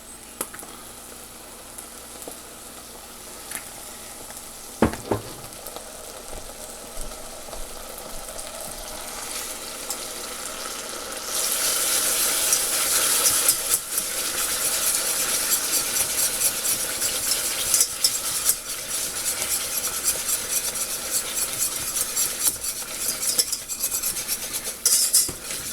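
Tomato paste cooking down with olive oil in a pan, a steady low sizzle with scraping and stirring of a utensil against the pan, growing louder and busier partway through.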